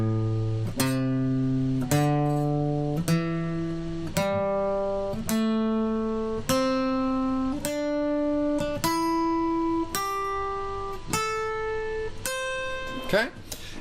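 A guitar plays a minor pentatonic scale one picked note at a time, climbing steadily upward in about a dozen evenly spaced, ringing notes, clear and close with no talking.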